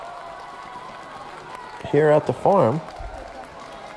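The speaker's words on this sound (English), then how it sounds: "And our crowd is fired up." Crowd noise from spectators at a boys volleyball sectional final, Northern Burlington versus Colts Neck, a steady roar of cheering and clapping running under a commentator's voice throughout.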